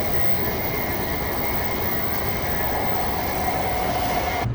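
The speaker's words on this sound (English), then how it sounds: "if you continue that walk through the stores, you come upon the metro." An underground metro train in the Crystal City station near Washington, D.C., a steady loud rumbling roar of rolling cars and wheels filling the platform, with no talk.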